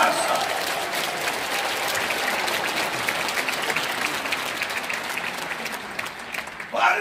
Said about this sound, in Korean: 여러분 박수 한번 쳐요